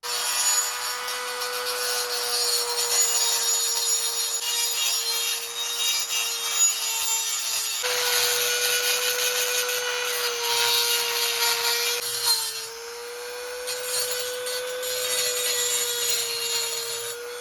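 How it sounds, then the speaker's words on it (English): A Dremel rotary tool grinds out the holes in the handlebars of a 1989 Harley-Davidson Evo Softail, a close, steady high whine with scraping, briefly pausing and shifting pitch around eight and twelve seconds, no talk. "I think the Dremel cleaned this out pretty good"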